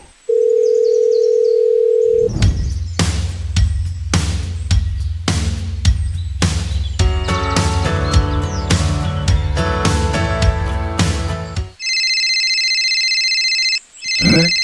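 A steady tone gives way to a loud phone ringtone that plays a bright repeating melody over a low pulsing beat for about ten seconds, then a high electronic chirping beep closes it, with no voices.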